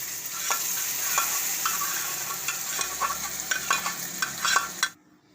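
Fried edible gum being stirred into milk in a pan over a very low flame, giving a steady sizzling hiss with repeated scraping and clinking strokes of the spoon, close up, until the sound cuts off near the end.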